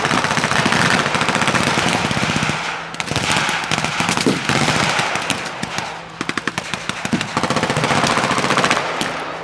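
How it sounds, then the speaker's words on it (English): World War II battle gunfire, loud dense bursts of rapid machine-gun fire with single shots between, a brief lull near the middle, then heavy firing resumes. "The fighting erupts all across the open ground as the battle is in full swing."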